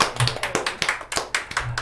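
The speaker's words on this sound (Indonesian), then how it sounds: "tepuk tangan semuanya" An audience claps along at a children's choir appearance on a variety show, with quick, fairly steady hand claps from a small group, close and lively, with no talk over them.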